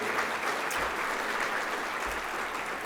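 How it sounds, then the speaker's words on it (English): Audience applause fills a mayor's luncheon, a steady wash of many hands clapping close and full for the whole stretch, with no voices rising above it. "Give yourselves a round of applause for being here and for all that you do."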